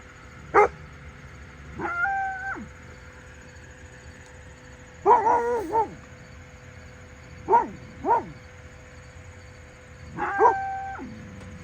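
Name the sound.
dogs barking at cows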